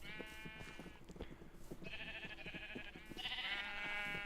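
Sheep in Minecraft bleat in several wavering, drawn-out calls, close and fairly clear, over light clicking and shuffling sounds with no talk.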